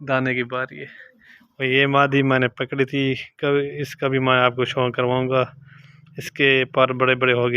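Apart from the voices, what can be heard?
No everyday noises stand out.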